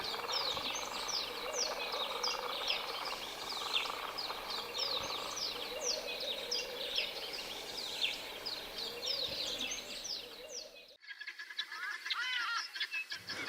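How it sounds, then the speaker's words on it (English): Many birds sing and chirp at a guest farm in the Drakensberg area of KwaZulu-Natal, a dense busy chorus of calls that cuts off near the end and gives way to fainter, sparser chirps. "It also attracts many birds"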